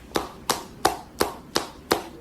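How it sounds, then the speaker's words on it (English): Six sharp claps in a slow, even rhythm, each a crisp broadband slap with a short decay, spaced about a third of a second apart, close and alone with no talking. "Clap it up for bro."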